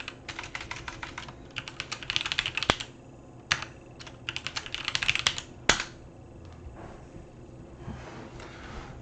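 Fingers type a password on a computer keyboard while setting up Windows Server 2016. Quick, close clicking keystrokes come in two bursts, then a few isolated key presses fade into quiet room tone.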